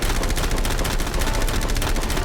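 Gunfire aimed at a yacht rattles in dense, rapid bursts, loud and continuous, like several guns firing at once with no pauses.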